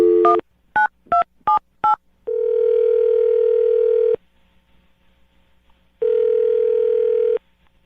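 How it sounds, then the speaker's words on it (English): A telephone call is placed: a quick series of five short beeping keypad tones, then two long, steady ringback tones separated by a silent gap while the line rings. "I'm going to dial her phone number"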